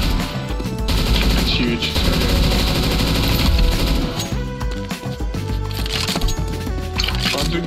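Automatic weapon fire in the video game Counter-Strike 2, loud sustained bursts of rapid gunshots running almost the whole time, with a player's voice talking over them.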